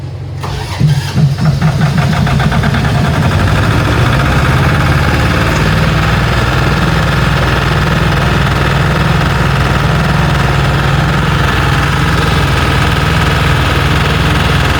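Loud MAKO high-pressure air compressor kicks on after a brief click, then runs continuously with a steady chugging, pulsing drone while an air sample bag is attached. No talking.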